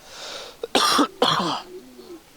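Two sharp coughs close by during a yoga breathing exercise, a quick pair in a quiet room, followed by a faint throaty exhale.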